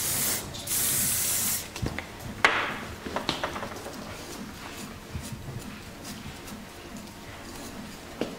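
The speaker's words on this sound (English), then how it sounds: "I'll keep creating layers on the hair with a nice hairspray." Hairspray hisses in two short bursts onto hair in a salon, followed by scattered soft clicks, taps and rustles as the updo is styled.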